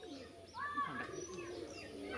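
Pigeons, including a young Andhra pigeon, coo and call softly in a loft setting, with a few rising and falling calls over a steady murmur of background noise.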